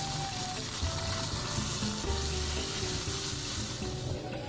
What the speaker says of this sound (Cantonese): 放啲魚落去煎，用中火去煎佢，每邊可能都要煎3-4分鐘，煎到佢金黃色噶。